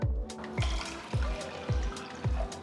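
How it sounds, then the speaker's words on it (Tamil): Two cups of water poured into a saucepan in a kitchen, heard as a series of evenly spaced splashing pours, about five in a row, each a short wet gush followed by trickling, fairly faint and close. "சாஸ்பேனில் 2 கப் தண்ணி ஊற்றுங்க."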